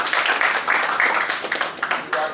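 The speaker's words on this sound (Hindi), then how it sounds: "नमनजोत कौर के लिए तालियां बजाइए" An audience claps for Namanjot Kaur during a session, a dense, steady patter of many hands across the whole stretch, with some voices over the top.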